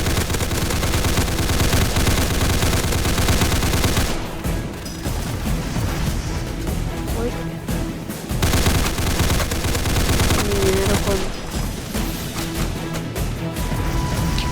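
Dense, near-continuous gunfire in the Roblox game Darkdriver, rapid bursts of shots and booms firing almost without pause, with brief lulls before the shooting resumes.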